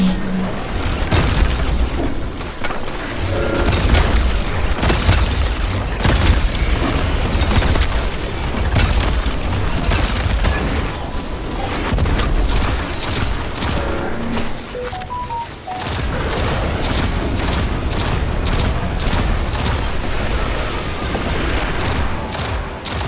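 Video game gunfire in Destiny 2 as a weapon pours shots into a boss: a dense, loud barrage of rapid bursts and booming impacts that runs almost nonstop, with one brief dip midway before the shooting resumes.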